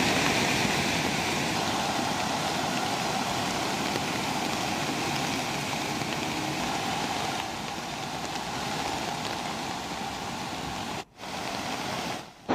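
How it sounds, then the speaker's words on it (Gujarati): Heavy monsoon rain pours steadily in Valsad district, a dense, even wash of noise that runs loud and unbroken for the whole stretch, with two brief cuts near the end. "છેલ્લા 24 કલાકમાં સતત વરસાદ વરસી રહ્યો છે"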